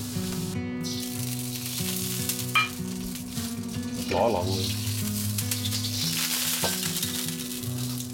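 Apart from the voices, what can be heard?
stir-frying onions and char siu pork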